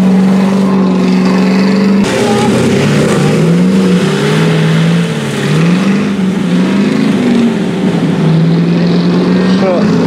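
Off-road vehicle with a ZIL engine at an off-road festival in 2019: loud, close engine drone that keeps revving up and down in pitch, with other sounds from the event mixed in around it.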